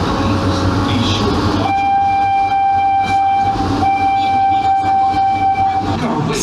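Wildlife Express train at Disney's Animal Kingdom running with a steady rumble, sustained whistle-like tones in the middle and loud continuous noise throughout.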